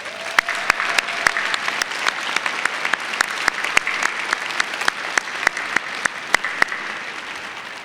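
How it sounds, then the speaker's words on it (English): Audience applause fills a commencement ceremony in an arena, a steady dense wash of clapping with sharp individual claps popping out near and far, running throughout with no talk. "Please join me in giving them a round of applause for their service today"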